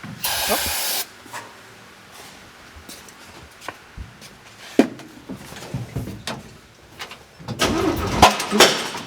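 A 1949 Chevy engine cranks in bursts, catching with irregular sharp pops and sputters, then a louder rough rumble near the end.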